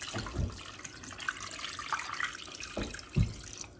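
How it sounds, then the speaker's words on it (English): Water is poured from one pot into another on a home kitchen stove, a soft, steady splashing stream with a couple of louder sloshes, close and fairly quiet, no voices. "I have water already in this pot, so I'll just pour it from this pot in"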